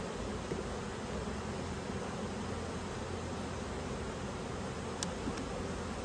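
Honey bees droning at an opened hive during a hive check, a dense, continuous hum that stays even and close throughout, with no voices.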